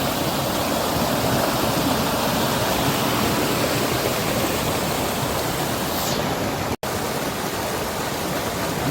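Mountain valley stream in a mossy gorge rushing steadily over rocks, a loud continuous broadband wash of water heard up close with no voices.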